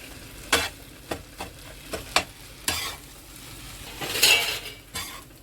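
Kothu parotta made from store-bought parotta is mixed with shop-bought salna gravy in a hot pan, with a constant sizzle and quick metal scrapes and clinks from stirring close up.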